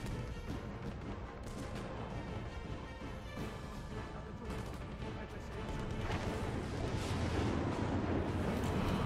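Gunfire and heavy blasts in Sniper Elite 3 on Xbox 360, a dense, continuous barrage of booming shots and crashes that grows louder toward the end, with no talk.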